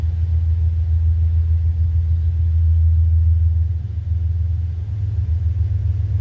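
A small Sh.18 model glow-plug engine runs steadily at close range, giving a loud, continuous low rumbling drone that eases slightly toward the end, with no talking.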